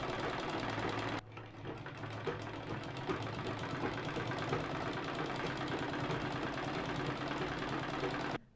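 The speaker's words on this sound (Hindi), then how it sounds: "पूरा हम राउंड में स्टिच करके इसमें हम दाब सिलाई दे देंगे।" A sewing machine runs continuously, stitching around the edge of a fabric sling bag with a steady rapid mechanical whir and knock, starting abruptly after a brief pause near the start and stopping at the end.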